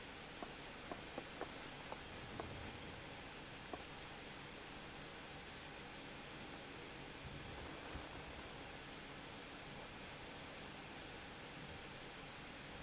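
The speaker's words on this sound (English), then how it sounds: "I don't know if it being nighttime and raining is intentional." Steady rain falls at night in the Final Fantasy XIV game world, a quiet, even wash of drops with a few faint ticks near the start and no voices.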